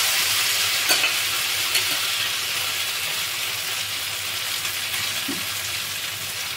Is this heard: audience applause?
no